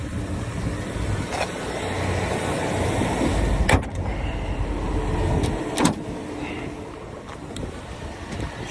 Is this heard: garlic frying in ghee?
no